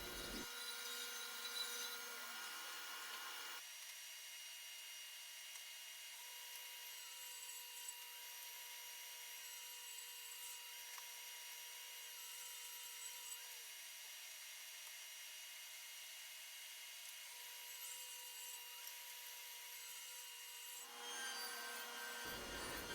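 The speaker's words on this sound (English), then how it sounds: "Each of the shelf pieces is getting a 1/4 inch deep and 1/4 inch thick groove in there" Dado blade on a table saw cutting a 1/4 inch deep, 1/4 inch wide groove in 2.5 inch wooden shelf pieces: a steady loud whine with a constant pitch, lower motor hum at start and end.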